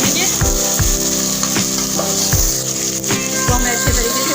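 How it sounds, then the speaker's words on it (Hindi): Half a kilo of beef sizzles and fries in a pot for aloo gosht, a steady loud crackle with stirring knocks recurring every half second or so, and no talk over it. "इसको हम भूनेंगे।"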